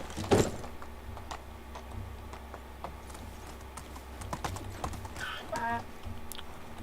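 A donkey's hooves clip-clop in Medieval Dynasty, a steady run of light, close hoof taps under a low ambient background, with a brief thump at the start.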